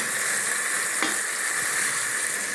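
Curry leaves hiss and sizzle steadily in hot oil with tomatoes in an electric cooker, a continuous close crackle with one brief sharper spurt as they hit the pan.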